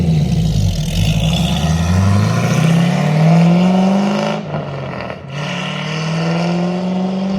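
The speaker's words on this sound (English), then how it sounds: "But now it's time to take this thing on a drive, and make sure that it's not running hot." A C5 Corvette drives with a loud, steady engine drone heard from inside the car, shifting in pitch as it accelerates, with a brief dip when the revs drop.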